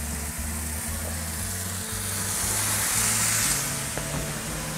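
Olive oil poured over sliced onions cooking beside steak on a barbecue grill gives a steady, close sizzle that swells briefly midway, with a low droning tone running underneath.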